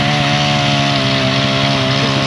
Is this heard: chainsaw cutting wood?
yes